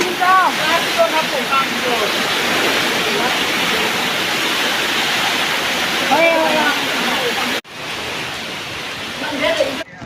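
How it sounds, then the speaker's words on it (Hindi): Heavy rain and rushing flood water from Cyclone Remal roar steadily beside a village river, a loud continuous wash that briefly drops out, with people talking and calling over it. "बहुत अभी बारिश भी हो रहा है"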